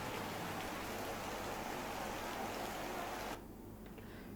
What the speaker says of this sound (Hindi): आज सुबह से लगातार बारिश हो रही है